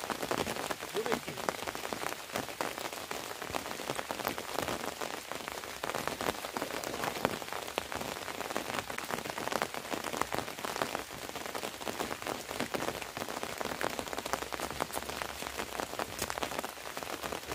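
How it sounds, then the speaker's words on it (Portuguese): Heavy rain pours steadily at a tilapia fishing spot, a dense, continuous patter of drops on surfaces that stays loud and even throughout, with no talking. "Muita chuva, entendeu?"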